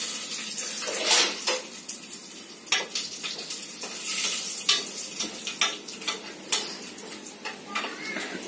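Curry leaves and dal stirred in a hot pan, bursts of sizzling and scraping spatula strokes in an uneven rhythm, fairly faint.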